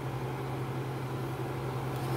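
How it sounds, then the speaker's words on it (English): A kitchen range hood fan runs over a stove while pasta water is on, giving a steady low hum and broad whooshing noise that stays even throughout, moderately quiet with no voices. "the fan is on, so sorry about the noise"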